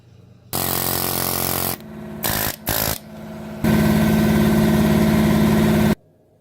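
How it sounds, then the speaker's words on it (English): A pneumatic air hammer drives a bushing out during an open drive conversion. It gives a long loud rattling burst, two short stuttering blasts, then another sustained hammering run before stopping, close and alone. "One bushing beat out with the air hammer."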